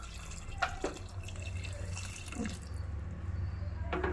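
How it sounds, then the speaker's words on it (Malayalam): Hot water being poured into a cooker pot while cooking mutton mandi, heard as a steady close liquid pour with scattered drips and splashes over a low hum. "നമ്മൾ വെള്ളം ചേർക്കുകയാണ്."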